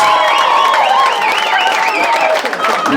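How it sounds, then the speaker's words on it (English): Dense applause and cheering from a crowd fill the space, steady and loud, with whistles rising above the clapping. "Ladies and gentlemen, give these boys a round of applause."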